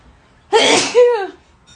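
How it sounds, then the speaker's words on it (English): One close, loud human sneeze, a sharp burst of breath followed by a brief voiced trailing sound, alone in a quiet room. "Oh, I'm going to sneeze."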